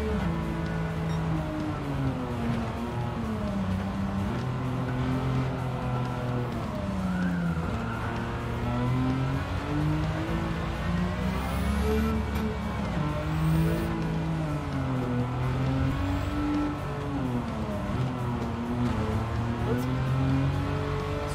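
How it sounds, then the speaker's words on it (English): A right-hand-drive car's engine races in the Gran Turismo 7 driving game, a loud continuous whine rising and falling with gear changes and throttle across the whole stretch, with no talk over it. "Driving a right-hand drive car."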